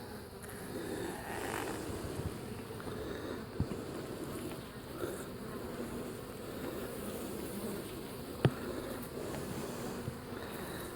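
Bees from an unusual hive, some with heads stuck down in the cells, make a steady close buzzing drone that fills the whole stretch, with a few sharp knocks and one bright click near the end.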